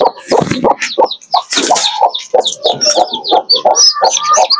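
Giant chickens clucking up close, a rapid series of short, sharp clucks and squawks in irregular bursts, loud and alone with no talking.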